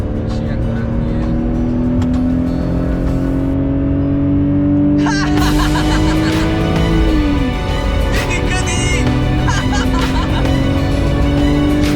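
A car engine under repair for faults revs carefully upward toward 5000 rpm, the pitch climbing steadily before dropping off, loud and close with rushing noise, while a voice talks at times over it.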